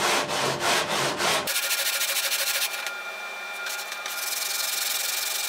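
Guitar wood being hand-sanded flat with sanding sticks, a close, steady scraping rasp that starts with a few coarse strokes and then settles into a continuous, finer rubbing.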